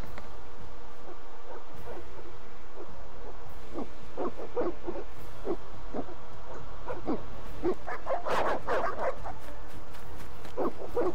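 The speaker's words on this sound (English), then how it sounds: "The dogs will tear her apart." Evil dogs barking in The Witcher video game, a run of sharp barks and yips growing louder and denser toward the end over a steady low background hum.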